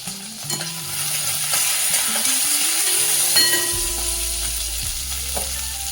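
Curry leaves hit hot oil in a pan of steamed peas while making vermicelli upma, giving a steady close sizzle and hiss with stirring scrapes throughout, no voices.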